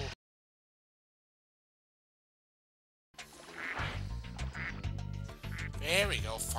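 Cartoonish ducks in Spyro 2: Ripto's Rage quack loudly and repeatedly in nasal bursts after a stretch of silence, mixed with game sounds.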